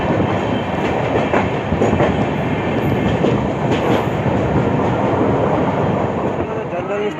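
Bandra-Veraval Express with new LHB coaches running just after leaving Bandra Terminus, a loud, even rumble and rhythmic clatter heard from inside, continuous for the whole stretch.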